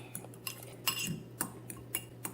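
A metal spoon stirs gari with stew and meat in a bowl, making light, irregular clinks and scrapes against the dish, close by and fairly quiet, with no talk.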